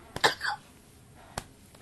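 A man in a basement podcast setting coughs a few times up close, a couple of sharp, rough bursts followed by a single fainter cough after a pause.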